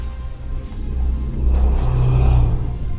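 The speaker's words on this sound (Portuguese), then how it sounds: "Olha, outra moto passando," A motorbike passes nearby, its engine rumbling and swelling louder midway before easing off slightly, heard alone without talk.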